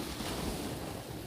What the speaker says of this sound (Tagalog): Nadidinig nyo yung yung kalampag ng alon.